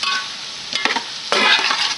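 Homestyle chicken curry with onions being stirred in a pot, a close sizzle broken by a few scraping strokes of the spoon against the metal, loudest toward the end, with no voices.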